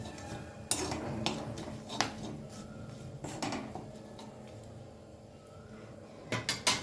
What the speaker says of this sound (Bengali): গ্যাসের ফ্লেমটাকে একদম লোতে রেখে ফোড়নটা একটু নেড়ে নিচ্ছি